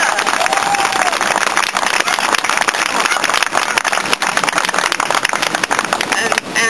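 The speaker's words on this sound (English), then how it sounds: "you should have a round of applause" Sustained applause from a large crowd at an Occupy DC gathering in Freedom Plaza, dense and steady clapping filling the room for several seconds.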